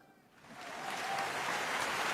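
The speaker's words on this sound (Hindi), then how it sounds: "मैं आपकी कमजोर तालियों के बीच एक लाइन कोट कर रहा हूं अंबर जी की" Faint, scattered audience applause swells slowly from near silence into a thin, steady patter of clapping at a public gathering, with no voices over it.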